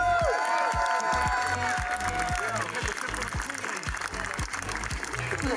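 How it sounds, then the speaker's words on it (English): Audience applause in a crowd for judges award winners at a cosplay competition during a retro gaming event, steady dense clapping throughout with a few louder cheers mixed in. "Everyone give them a round of applause."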